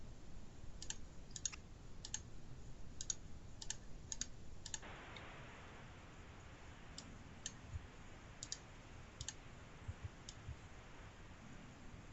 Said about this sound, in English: Dylan, he's typing.